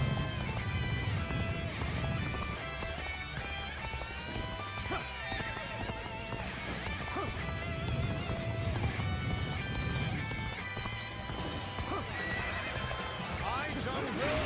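Horse galloping and whinnying in the Dynasty Warriors Origins video game, steady hoof clip-clop with neighs over loud battle music and game effects throughout.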